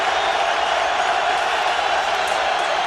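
A football stadium crowd at a Cowboys vs. Eagles game roars in a dense, continuous wash of cheering noise, loud and unbroken, with a voice faintly underneath.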